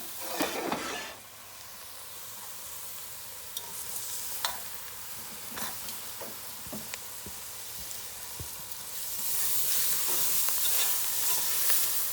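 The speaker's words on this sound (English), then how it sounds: "now I'm going to add my vegetables into the roux" Vegetables hit a hot, browned roux for chicken gumbo and start sizzling, a steady frying hiss with some stirring scrapes and clinks that grows brighter toward the end.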